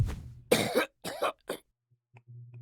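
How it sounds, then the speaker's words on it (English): A character in the video game Octopath Traveler coughs badly: three harsh, close coughs in quick succession, followed by faint throat sounds and a low hum. "Then he starts coughing rather badly."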